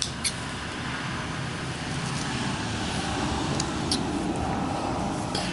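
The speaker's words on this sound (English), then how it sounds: "Cars coming by and things like that." Steady outdoor road noise of cars passing by outside, a continuous moderate hiss and rumble with no speech, faint and distant rather than close.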